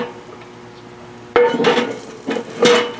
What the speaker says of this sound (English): Set the pan over here.